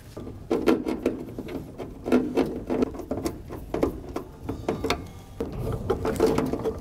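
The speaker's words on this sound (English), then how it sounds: "So I just want to start all four screws." Screws are started by hand into the mount of a Nayax VPOS Touch credit card reader on a soda machine, giving close, irregular light scraping and tapping bursts in a quiet room.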